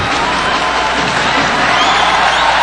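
Basketball arena crowd cheering and applauding at a quarterfinal game, a steady loud roar of many voices with whoops, continuous throughout.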